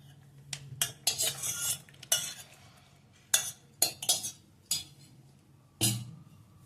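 A spoon scrapes and clinks against a metal pan as thick fruit custard is scooped into a bowl, in about eight short, separate bursts of clatter with quiet gaps between.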